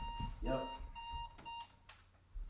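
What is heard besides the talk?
alarm clock ringing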